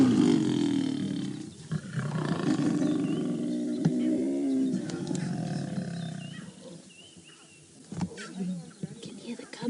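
Lions roar during a tense encounter between a pride with cubs and intruding males on an African safari drive, loud, overlapping and sustained for several seconds before easing off, with low rumbling throughout.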